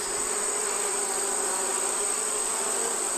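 Honeybees buzzing around wintered beehives in a bee yard, a steady dense hum of many insects throughout, loud and continuous with no pauses or voices.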